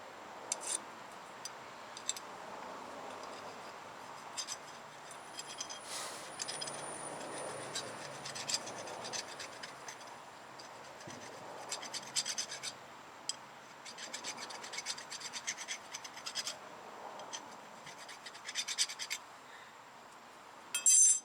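A brake caliper pin on a 2014 Ford F-150 from a salt-belt region is filed by hand while it is rotated, giving soft, close, scratchy rasping strokes that repeat unevenly over a quiet background.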